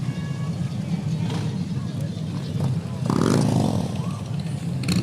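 Motorcycles of the Templar Knights Motorcycle Group roll past in a Veterans Day parade, a steady engine rumble with a louder surge midway, under crowd murmur and a nearby voice.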